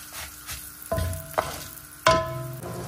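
Sizzling oil in a pan with a few sharp scraping stirs of tempering spices, each stir bringing a burst of frying crackle, close and clear.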